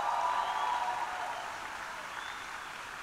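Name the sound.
congregation applauding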